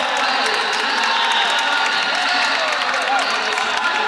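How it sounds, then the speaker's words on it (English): A wrestling arena crowd at a championship semifinal roars steadily, a dense sustained wash of cheering and shouting with no breaks across the whole stretch. "The roar of the crowd,"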